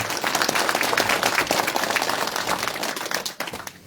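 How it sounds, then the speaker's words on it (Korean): Audience applause at a mayoral candidacy press conference, a steady, moderately distant patter of clapping that thins out near the end. "뜨거운 박수 부탁드립니다."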